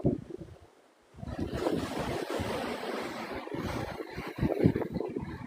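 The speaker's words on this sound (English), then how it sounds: "I'm going to be quiet so you guys can listen to the waves." Ocean waves at Navarre Beach on the Florida Panhandle wash onto shore in a steady, rushing roar with gusty wind buffeting the microphone, swelling after a brief quiet start.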